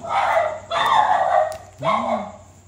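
Dogs bark and snarl in a few rough bursts, close and loud, sounding like a scuffle.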